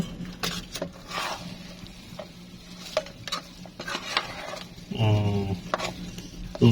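Noodles being stirred in a pan with a utensil, giving irregular scrapes and clicks over a low sizzle and background hum, with a brief louder rattle near the end.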